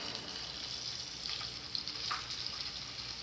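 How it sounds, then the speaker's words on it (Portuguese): Ingredients for a Brazilian tripe dish fry in oil in a pan, giving a soft, steady sizzle that sits faint in the background with a few brief crackles. "Primeiro eu vou fritar."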